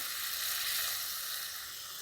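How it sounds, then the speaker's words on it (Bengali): Water poured into spice masala frying in a pan for a fish curry gives a steady, fairly quiet sizzling hiss that fades slightly toward the end. "এরপর পরিমাণ মতো জল দিয়ে দেবো।"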